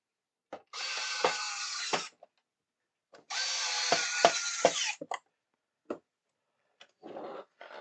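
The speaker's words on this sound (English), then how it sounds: "And again, 4 of these screws to hold that into place." Small screws being driven into a part of a 1:16 scale Orca boat model from Jaws with a small power screwdriver, two sustained whirring runs of about a second and a half each, close up, followed by clicks and brief handling noises.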